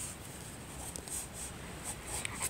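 A pen moves across a sheet of paper, making faint, soft, continuous scratching strokes close by in a quiet room.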